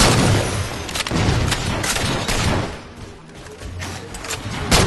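Sniper gunfire in Halo 4 multiplayer: loud, close booming shots and blasts land one after another in dense bursts, with a brief lull before the firing picks up again.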